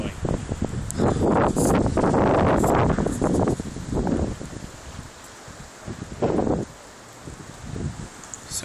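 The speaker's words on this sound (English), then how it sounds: "Oh, a nice strong gust here." A strong gust of wind on a windy night, roaring and buffeting the microphone in loud surges that fade and return, with a person talking briefly beneath it.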